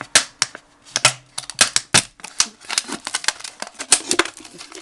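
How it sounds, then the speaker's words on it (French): Utility knife cutting into a plastic bottle, heard up close as a quick run of sharp crackling snaps and ticks in irregular bursts. "je prends ma bouteille, je vais la couper avec le cutter"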